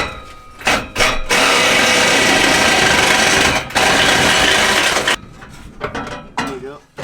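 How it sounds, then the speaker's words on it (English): A power tool roars loudly and steadily for several seconds, cutting apart pinched, over-tightened truck exhaust pipes in a shop, then cuts off, leaving brief mechanical clanks and scrapes. "So it's all getting cut apart."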